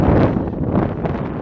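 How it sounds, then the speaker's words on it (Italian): Cold north tramontana wind blowing across Termoli beach on New Year's Day, a loud continuous gusting rush buffeting the microphone, with no voices heard. "c'è il vento da nord, il vento di tramontana"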